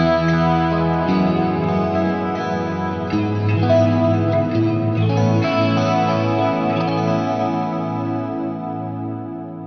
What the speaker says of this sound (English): I'm going to need my more go-to just delay and lighter reverb tone.